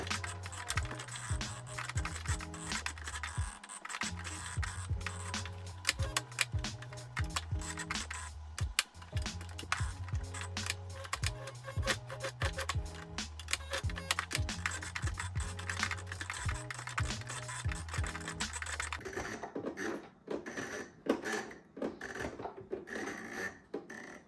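A slowly cranked hemming machine stitches the raw selvage hem of Levi's Vintage Clothing 501XX 1955 jeans, giving a steady, rapid mechanical clatter and ticking with a low droning tone that shifts and thins near the end.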